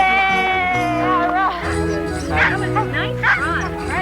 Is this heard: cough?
no